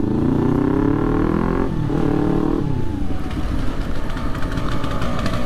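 A KTM Duke 390 motorcycle engine runs loud and close, its pitch swelling in a rev before settling into a rough, throbbing idle.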